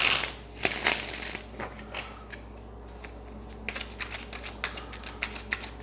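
A deck of tarot cards is shuffled by hand, giving quick papery riffles and soft flicking taps, a burst of dense shuffling at the start followed by a scattered run of lighter card snaps, close and fairly quiet.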